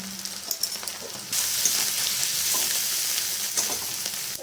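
Spices with turmeric and chilli powder sautéing in a pan for a banana-flower dal with prawns, a steady close sizzle that jumps louder partway through and continues with faint stirring scrapes.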